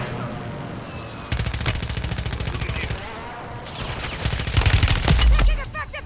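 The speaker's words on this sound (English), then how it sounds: "Taking effective fire!" Rapid automatic gunfire in Call of Duty, with sustained bursts of loud, dense shots broken by short gaps and layered with further firing, some of it close and some farther off, while voices talk over the battle.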